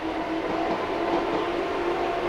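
A Meitetsu train rolls past a level crossing in Japan, a steady, even rumble with a sustained humming tone that carries on without a break and stays at a moderate distance.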